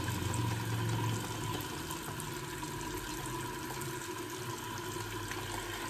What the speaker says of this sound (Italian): Andiamo aperta l'acqua calda però